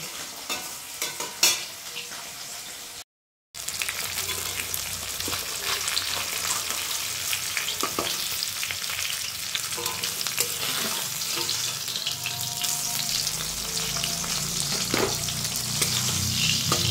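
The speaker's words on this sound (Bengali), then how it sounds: "দেখো এখন কমপ্লিট মাছগুলো সব ভেজে নিচ্ছি।" Silver pomfret fish frying in oil, crackling and sizzling steadily at moderate volume with frequent spatters and stirring clatter, briefly cut by a short gap of silence.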